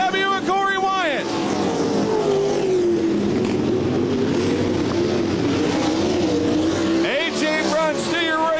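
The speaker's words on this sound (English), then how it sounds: "Corey Wyatt up to fifth of the 99W, working the outside of Wingate." Race cars roar around an oval track during a heat or feature race, engines sweeping loudly past in bursts near the start and end with a continuous drone between, while an announcer talks over the action.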